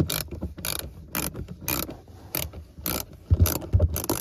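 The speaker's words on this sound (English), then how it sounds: "Just put it right here and start unscrewing the bolts." A ratchet fitted with a 10 mm socket loosens dashboard bolts in a Toyota RAV4, giving repeated short bursts of clicking with brief pauses between strokes, close and clear.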